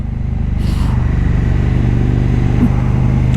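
A KTM Super Duke Gen2 naked motorcycle runs close by with a steady, loud engine drone, marked by a brief sharp rev blip from the auto-blipper on a downshift. A small clatter follows late, and no talking is heard.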